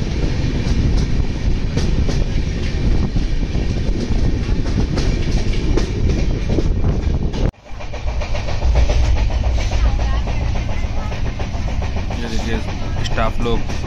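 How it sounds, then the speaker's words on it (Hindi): Goa Sampark Kranti Express rolling in to a station platform: loud, continuous rumble and clickety-clack of wheels over rail joints, with a brief dip midway, and voices talking over the noise. "एक्सप्रेस अभी प्लेटफॉर्म नंबर 3 पर अराइव हो रही है"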